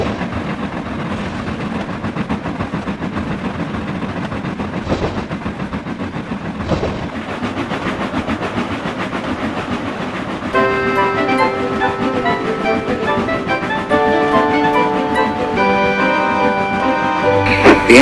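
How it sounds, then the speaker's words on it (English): A heavy passenger train hauled by three small steam engines pulls out of a station platform, with a low rumbling chug and rhythmic rail clatter; a music score rises over it in the second half. "The heavy train drew out of the platform."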